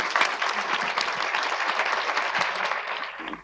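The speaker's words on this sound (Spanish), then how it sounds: "les pido un fortísimo aplauso para ella" A school audience gives loud, dense applause for film director Lucrecia Martel before her masterclass, a steady wash of clapping that holds for several seconds and then begins to fade.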